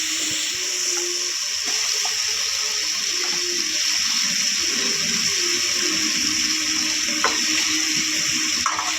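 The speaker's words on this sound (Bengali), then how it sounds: "এরপর আমরা কিছুটা পরিমাণ মতো জল দিয়ে দিই" Water poured steadily into a pan of fried prawns, a continuous splashing hiss running evenly throughout, with a few faint clinks in the background.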